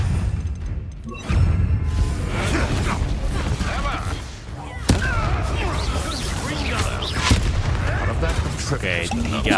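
Fiery Confringo blast spell in the Hogwarts Legacy video game, set among dense combat noise: sharp cracks and booms over a steady rumbling bed, with shouted voices mixed in.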